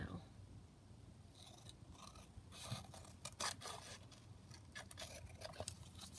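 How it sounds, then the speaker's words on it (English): Scissors trimming paper for a junk journal make quiet, close snips and scraping cuts in a few scattered clusters, with soft talk in the background. "So I'm just trimming that down."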